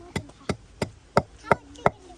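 A pestle pounds in a mortar with six steady, heavy thuds, each evenly spaced and close, with a faint background hum between strikes and no talk.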